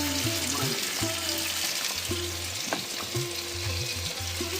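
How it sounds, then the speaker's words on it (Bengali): Fish-egg fritters bound with onion, chili and gram flour fry in hot oil with a steady close sizzle, broken by a few soft clinks and stirring sounds. "এই যে বড়া ভাজার জন্য ডিমটা মেখে নিয়েছি পেঁয়াজ লঙ্কা বেসন দিয়ে সব কিছু দিয়ে আর এখন এই যে বড়াগুলো ভেজে নিয়েছি"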